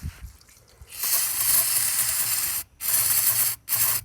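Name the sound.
pouring gasoline into a Dixon mower's fuel tank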